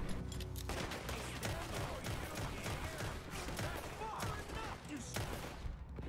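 Shotgun blasts and gunfire ring out in a Red Dead Redemption 2 firefight, dense and continuous with layered game sound effects and chaotic action noise filling the scene, while voices talk over it.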